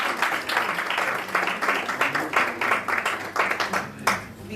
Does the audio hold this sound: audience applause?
yes